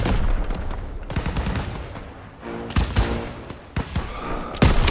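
Gunfire in the World War II shooter game Call of Duty WW2: repeated bursts of rifle and machine-gun shots, loud and sharp, with irregular gaps between volleys and no talk.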